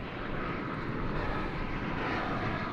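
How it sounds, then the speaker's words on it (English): An American Airlines Airbus A319 jet at DFW Airport gives a steady, loud engine roar with broad rumble that holds evenly throughout, no voices present. "An Airbus A319"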